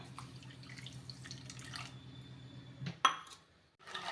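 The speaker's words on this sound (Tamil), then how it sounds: "அரை டம்ளர் தண்ணி இதில் சேர்த்துக்கலாம்" Half a tumbler of water splashes and trickles into a metal pan with light clinks of cookware while making laddu, ending in a brief louder clatter and a short quiet gap.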